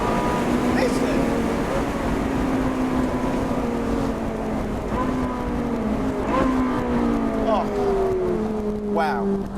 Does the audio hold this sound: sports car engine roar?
yes